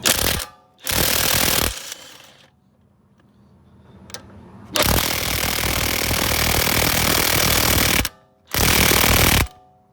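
An impact wrench works a lug nut off the wheel of a 2008 Mercedes-Benz GL450, loud rattling hammering bursts of varying length, short ones at first and then a long sustained run, close by.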